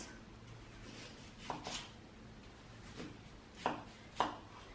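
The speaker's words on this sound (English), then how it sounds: "So firstly you want to cut your onion." A knife cuts an onion into small chunks for a traditional Roma Italian tomato sauce, with a few sharp, separate chops spaced irregularly over a quiet background, fairly close.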